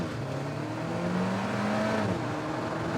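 A launch-control 0-100 km/h sprint with two people aboard, the engine held near 3,000 rpm before release, then a steady loud roar rising in pitch as the car accelerates hard, continuous and close throughout.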